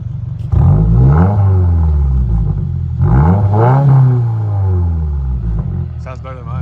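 A 2022 Subaru WRX with an MBRP axle-back exhaust revs hard twice with a deep, throaty rumble, rising and falling close by, with a brief higher-pitched rasp at the end.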